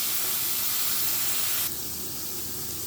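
Capsicum and green beans frying in a pan with a little salt, a steady, loud broadband sizzle that drops to a softer hiss partway through.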